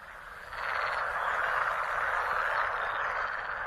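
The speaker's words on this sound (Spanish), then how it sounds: "El croar de las ranas macho resuena por toda la zona." A chorus of male frogs croaks continuously near an alder forest in wetland, a dense, steady mass of calls that swells after the first half second, with no talk.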